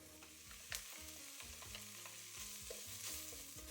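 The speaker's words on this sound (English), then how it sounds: "That garlic has been cooking for a minute." Garlic frying in a pot with onions for black bean soup with pork ribs, a steady low sizzle under frequent stirring scrapes and clinks of a utensil against the pot, close and moderately loud.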